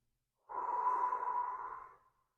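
A single long, steady exhale out through the mouth during Sheetali cooling-breath pranayama, a soft breathy rush lasting about two seconds, close and alone with no talking.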